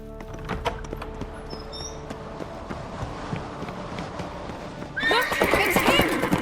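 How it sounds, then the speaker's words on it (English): In The Witcher 3, a horse whinnies loudly near the end, following a steady run of clip-clopping hooves over a low background ambience. "Look, it's him! Grab a horse, we'll chase him down."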